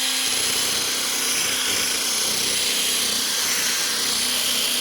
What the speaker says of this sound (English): I'm gonna just put it here, wet it, and then drill it.